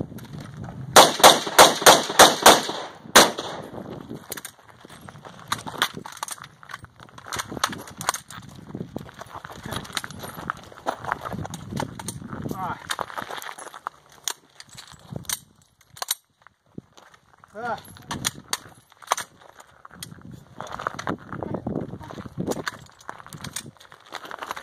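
Gunshots at a Surefire shooting competition stage, starting with a fast, loud string of close shots and continuing as scattered bursts and single cracks, with quieter gaps between them and no talking.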